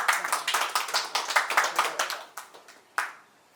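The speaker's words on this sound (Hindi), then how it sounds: "तालियां तालियां।" Scattered hand claps from a small group at a 1970–71 commerce batch reunion, an uneven patter of individual claps that thins out and ends with a few isolated claps.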